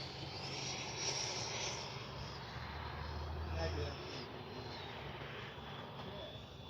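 FMS 80mm F-86 Skyblazers RC jet making a gear-down, flaps-down flyby, a steady ducted-fan whoosh swelling and fading as it passes, fairly faint, with a voice talking over it.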